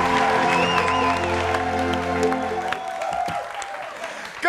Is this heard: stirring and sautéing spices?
no